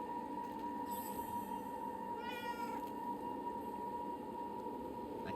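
Cat meowing in the video game Forspoken, a couple of short rising meows over a steady droning hum of game ambience, fairly faint and distant.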